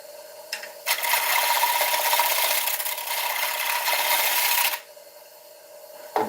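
A bowl gouge cuts along the rim of an ash bowl spinning on a wood lathe, giving a loud, steady rasping hiss for several seconds before it stops abruptly and the lathe hums on alone.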